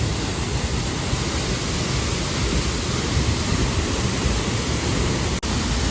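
A powerful waterfall in Ubud, Bali roars in a dense, continuous broadband rush, loud and close with no letup apart from a tiny click near the end.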